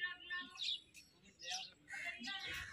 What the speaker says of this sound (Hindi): उधर देखिए पक्षी कितने सारे हैं